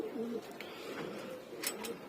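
Male pigeons coo softly in a low, throaty tone, with a few brief murmurs spread across a quiet loft setting and no talking.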